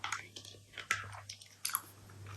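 Close-up crunching and chewing of a Werther's Original caramel apple filled hard candy, with sharp crunches about every half second and wet mouth sounds between them, quiet and intimate.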